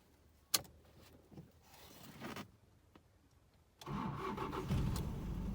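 A Toyota D4D diesel engine cranks and catches after a few small clicks and rustles, then settles into a steady, fairly loud close-up running rumble.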